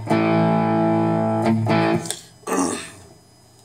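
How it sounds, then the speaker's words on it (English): Sustained electric guitar chords through a Synergy Friedman DS preamp module, drenched in echoing reverb, ring out with repeating tails decaying between strums, loud and close. "Sort of, you know, repeating reverb thing"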